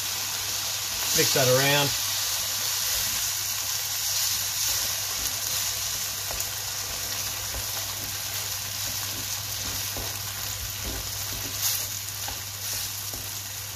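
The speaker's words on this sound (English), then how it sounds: "going to put the tin tomatoes in, full tin" Tinned tomatoes sizzle with chorizo in a pan, giving a loud burst of hissing when they go in, then a steady frying crackle while someone talks.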